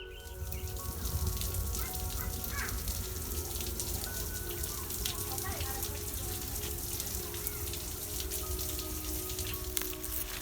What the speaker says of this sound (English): Fountains are charming and original.